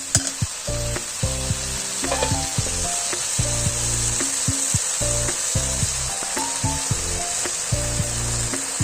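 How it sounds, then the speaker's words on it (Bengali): Spices and ginger paste fry in hot oil in a pan with a steady, loud sizzle, broken by regular scraping and stirring strokes from a spatula. "এবার এটা ভালো করে নাড়বো যতক্ষণ না কষানো তেল ছেড়ে যাচ্ছে।"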